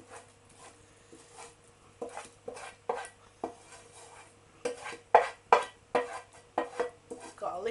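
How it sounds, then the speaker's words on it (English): Cooked pumpkin being scraped from a baking tray into a bowl in a home kitchen, heard as a run of sharp clinks and metal scrapes that come faster and louder toward the end, with steady low background hum. "Right, the pumpkin's cooked now. I'm scraping into the bowl."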